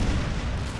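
Artillery fire in an American Civil War video game, heard as a dense, continuous low rumble of booming cannon fire across the whole short stretch, loud and without a break.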